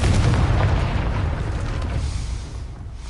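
A fire spell explosion in the Hogwarts Legacy video game, a deep booming blast with a heavy low rumble that rolls on and slowly fades over about three seconds, loud and alone.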